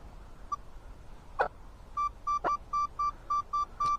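A metal detector searching a home vegetable garden gives steady electronic beeps, a single tone then a rapid run of evenly spaced pulses, with faint handling clicks and thuds in between.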